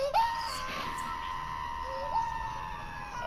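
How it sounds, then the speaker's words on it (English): Screaming playing from a video, a sustained strained high-pitched wail that rises sharply twice like a siren, moderately loud and steady over a faint background. "it's just a bunch of screaming so far"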